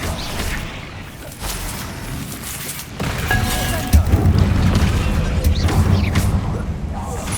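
A Confringo blasting spell explodes in the Hogwarts Legacy game: a heavy burst lands around the midpoint and a second deep boom follows, leaving a loud, rumbling low roar that persists to the end amid fighting noise.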